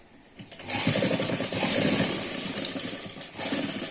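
An electric sewing machine runs a seam on a kurti jacket, whirring steadily in a close, fairly quiet burst after a few light clicks, then pausing briefly and starting again.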